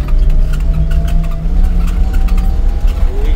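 A car driving roughly with chains on its rear wheels on a rough road in Kazakhstan, heard from inside as a loud, continuous engine drone with rattling and jolting knocks throughout.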